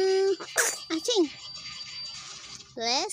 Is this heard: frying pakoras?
no